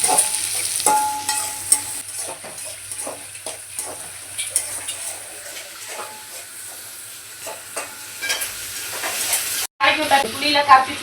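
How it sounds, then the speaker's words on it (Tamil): Chicken frying in a pan with cinnamon, cloves, curry leaves and onion, stirred as it sizzles with scraping and clinking of a utensil, near and steady, with a brief louder burst near the end. "இந்த சைடு வந்து சிக்கன் தாளிச்சு விட்டுக்கலாம்"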